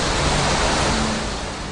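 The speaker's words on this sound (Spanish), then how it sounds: "Aquí vemos una presa en Berna, la capital de Suiza. Una balsa de desbordamiento impide inundaciones." Water roars steadily over a dam spillway in Bern, Switzerland, a dense, even rushing wash that stays loud and unbroken throughout with no voices.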